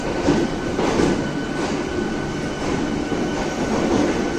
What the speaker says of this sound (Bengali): বন্ধুরা আমাদের ট্রেন হাওড়া থেকে ছেড়ে দিল